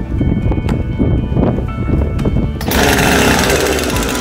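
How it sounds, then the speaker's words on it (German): A Husqvarna chainsaw engine drones with a choppy, uneven rumble, then revs up abruptly into a louder, steady high-pitched whine at raised idle during starting. "Säge läuft höher."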